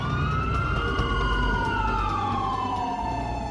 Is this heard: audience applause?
no